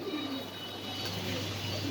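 A pigeon coos softly and close by, a low repeated murmuring call that runs steadily over faint background hum.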